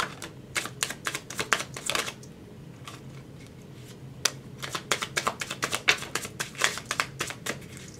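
Tarot cards being shuffled by hand up close, quick bursts of crisp riffling clicks in two clusters with a short pause between, fairly quiet and with no talking.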